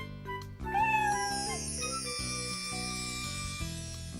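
A cartoon kitten's meows ring out over a tinkling, melodic music bed, a couple of short rising mews early on before the music carries on alone.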